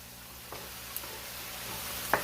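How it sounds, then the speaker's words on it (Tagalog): Pansit palabok being stirred in a pan just after fish sauce goes in, giving a soft steady sizzle with a few faint scrapes and clinks of the utensil against the pan, close and fairly quiet. "At lagyan na natin siya ng patis, ating fish sauce."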